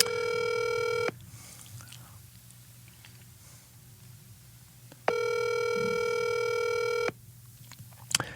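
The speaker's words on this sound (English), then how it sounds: "She never answers her phone either, Dirt" Outgoing telephone call ringback, two long steady electronic ring bursts separated by a quiet gap with faint room noise, with a soft click at the end.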